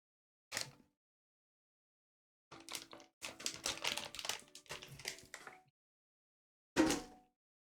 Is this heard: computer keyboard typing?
yes